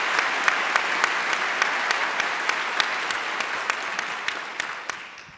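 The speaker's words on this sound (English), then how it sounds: "let's give her a round of applause." Audience applause at a university forum welcoming a speaker, a steady wash of many hands clapping for several seconds with scattered louder claps, then slowly fading at the end.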